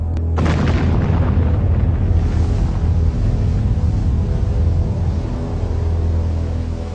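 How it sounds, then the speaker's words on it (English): A sudden loud boom bursts out, followed by a deep, sustained roaring rumble that carries on for several seconds, a mid-air explosion heard without any voices. "a ship reported seeing a mid-air explosion"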